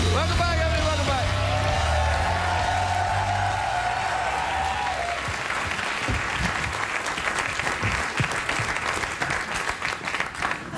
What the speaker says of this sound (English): Thanks for covering me with a clap there.